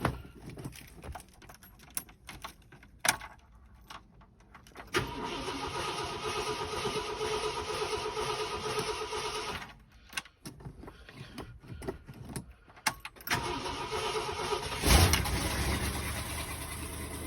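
A 1966 Ford Country Sedan wagon engine cranks with a few hesitant bursts, then catches and settles into a steady idle with an exhaust leak, recorded close by without talk.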